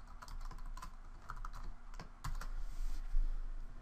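Keys on a computer keyboard clatter in quick, irregular taps while a LaTeX citation command is typed, close and fairly quiet with no speech.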